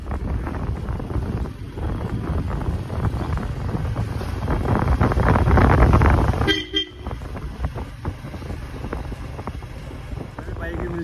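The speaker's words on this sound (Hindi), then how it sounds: "अब बारिश शुरू की, पता नहीं कब रुकेगी" Rain begins falling on a campus in Dehradun, India, a steady broadband hiss that swells through the middle, drops off sharply for a moment, then carries on evenly.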